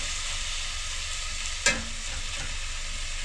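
Onions and tomato fry in a pan with a steady, close sizzle, broken once by a quick scrape of a spoon stirring.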